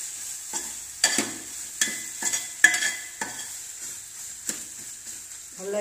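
Egg gravy ingredients frying in a pan with steady sizzle, while a spoon stirs and scrapes against the metal in sharp intermittent clinks, fairly close and with no voices.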